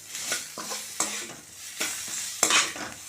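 Chopped tomatoes are stirred in a hot frying pan, a utensil scraping and knocking in several distinct strokes over a steady close sizzle.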